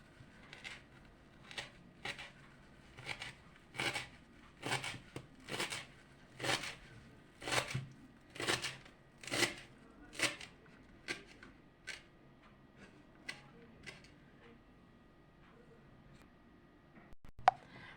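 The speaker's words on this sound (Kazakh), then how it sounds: "Енді укробымызды да дәл сондай қылып ұсақтап тураймыз." A knife chops fresh dill finely on a cutting board in a quiet kitchen, giving a steady run of sharp, close taps that grows louder in the middle and then thins out toward the end.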